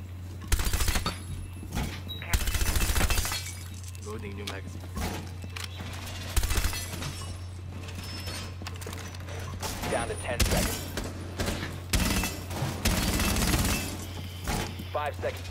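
Gunfire in Rainbow Six Siege sounds in loud, separate bursts scattered over a long stretch of game noise, with a steady low hum underneath and voices talking between shots.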